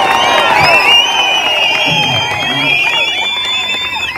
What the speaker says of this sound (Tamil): இவங்களுக்கு பாராட்டு சொல்லுங்க கைத்தட்டு